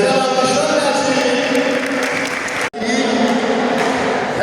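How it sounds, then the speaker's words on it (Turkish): Dense applause and crowd noise for athletes at a commemorative event in Aghdam, sustained and loud with a brief break near the middle. "Gözəl alkışlar gəlsin."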